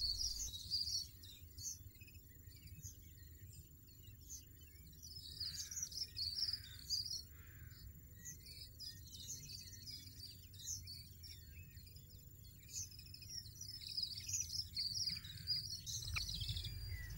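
A European goldfinch sings in short bursts of bright, twittering high notes, fairly faint and distant, with a steady low background hum and no voices.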